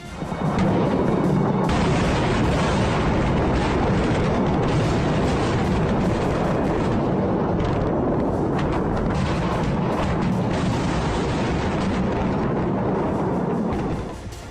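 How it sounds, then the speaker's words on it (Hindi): A long, dense barrage of heavy explosions and booms from airstrikes on Beirut, Lebanon, rumbles without pause, loud and continuous before fading out at the end. "धमाकों पर धमाके हो रहे हैं"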